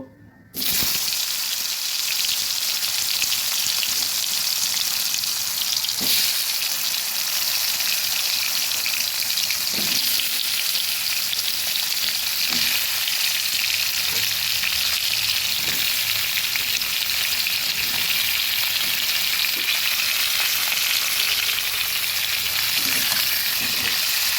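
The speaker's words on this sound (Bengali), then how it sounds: "তেলটা গরম হলে এবার কাঁকড়গুলো ভেজে নেব" Steady, loud sizzling of salted, turmeric-coated spiny gourd frying in hot oil, a continuous bubbling hiss with occasional soft clinks, no voices.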